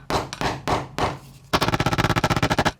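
A clogged pressure washer part gets struck with a tool, first a few loud, separate metallic taps, then a fast, even run of about fifteen sharp knocks close to the listener.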